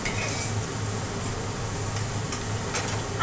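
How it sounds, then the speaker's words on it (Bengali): Potatoes fry in hot oil with a dense, steady sizzle, close up, with faint clinks of a utensil against the pan and no talk. "আলুগুলি ভেজে তুলে নিলাম।"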